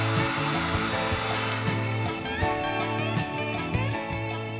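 A heat gun blows steadily on the fork legs of a Harley Fat Boy, a continuous loud whirring hum with a faint shifting whine, close and uninterrupted, without talk.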